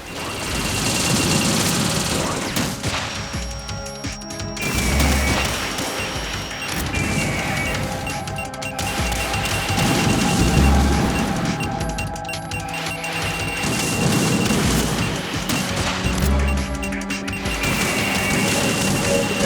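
Missile explosions in the Metal Gear Solid 2 Substance video game, heavy booming crashes and clanks recurring every few seconds over a continuous engine-like rumble and game music.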